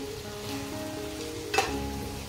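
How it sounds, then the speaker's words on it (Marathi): Onions frying in a pan for prawn biryani: a steady, soft sizzle with a faint hum beneath and a single brief clink of a utensil midway, close and moderately quiet. "इकडं कांदा पण फ्राय होत आला आहे."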